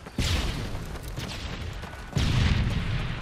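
Explosions in the 2011 shooter Call of Duty: Modern Warfare 3, two loud, broad booming blasts about two seconds apart with rumbling tails in a busy battle soundscape.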